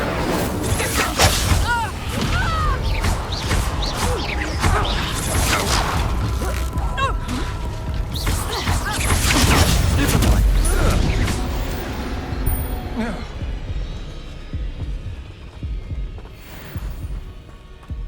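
Casting the Incendio fire spell in Hogwarts Legacy brings whooshing bursts, thuds and crackling impacts in a busy, loud flurry that tapers into a quieter tail near the end.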